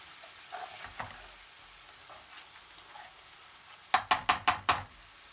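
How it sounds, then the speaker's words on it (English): Lemon juice and food colouring being stirred into a chasni sauce, a quiet sizzle with soft scrapes, ending in five quick, evenly spaced sharp taps of a utensil against the pan. "Add the lemon juice and all the food colouring and stir in well."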